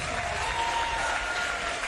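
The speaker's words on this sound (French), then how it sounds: "Allez, on applaudit." Sustained applause from an audience at a roller derby match introduction, steady dense clapping filling the whole stretch with crowd noise, no clear voices over it.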